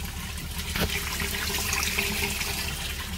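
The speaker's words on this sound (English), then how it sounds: "we're dropping fresh water there" Fresh water drains from a caravan's water tank near Port Pirie, a steady continuous gush and trickle of liquid that runs loud and close the whole time, with no voices.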